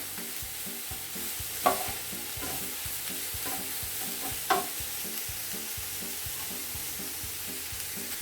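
Vegetables for vegetable ikra sizzle in a pan with steady frying crackle while being stirred, regular rhythmic scraping strokes and two sharper clinks of the utensil against the pan, close and alone.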